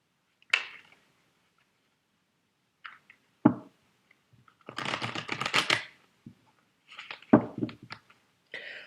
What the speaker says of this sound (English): Let me just cut the deck and shuffle again.